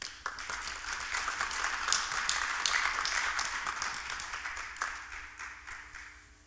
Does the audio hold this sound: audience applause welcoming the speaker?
yes